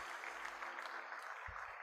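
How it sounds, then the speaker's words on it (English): An audience at a Lagos business and technical meeting claps for a speaker, a brief soft patter of applause heard from a distance and fairly faint throughout. "Another round of applause to our speaker, Eudorah Ochai-Audu."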